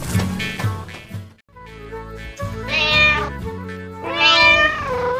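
A cat meows loudly several times, with long drawn-out, rising and falling cries close to the listener.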